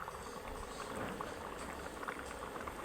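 Steady low bubbling and hiss of mango boiling in a covered pan on the stove, a continuous close simmer with no pauses.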